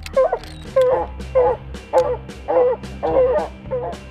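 Hunting dog treed on a mature tom cougar gives a steady run of about seven loud, close barks roughly every half second, with whiny, yelping edges between them.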